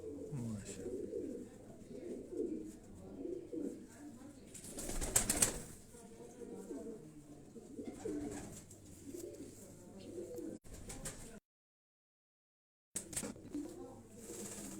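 Low, soft cooing of Asil high-flying pigeons in Quetta repeats throughout, with a brief flutter of wings partway and faint voices in the background.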